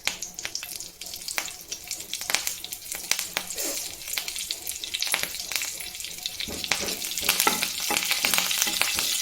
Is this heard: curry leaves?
yes